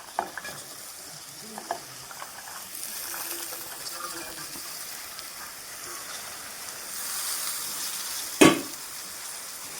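Mixed vegetables, including carrots and jujube berries, dropped into a hot pan for a Bhogi sankranti bhaji, giving a soft steady sizzle and stirring noise, with a sharp clatter near the end.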